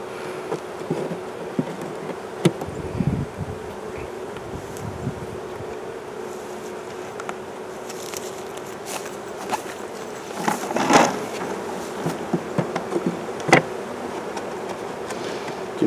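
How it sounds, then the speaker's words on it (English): Excited bees buzz around a hive on a windy day during fondant feeding, a steady close drone with passing louder swells and gusty wind noise, no talking. "bees getting more excited."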